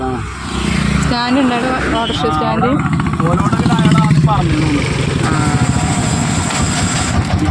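An autorickshaw engine drones steadily throughout the ride, a buzzing, close rumble with people talking over it.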